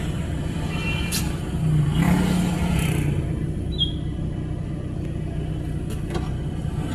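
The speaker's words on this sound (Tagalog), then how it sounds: "Sobrang traffic talaga." Heavy road traffic with cars during the busy Christmas season: a steady, close engine rumble runs throughout and swells briefly in the middle, with no talking.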